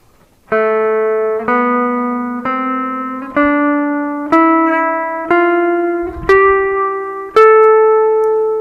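Eight separate notes rise step by step in a natural minor scale, each plucked and left to ring with a clean, bright tone before the next, no voices.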